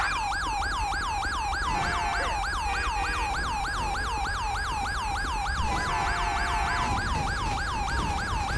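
A wailing ambulance siren in Grand Theft Auto 5 sweeps up and down in rapid, steady cycles, loud and continuous throughout, with a low engine hum underneath.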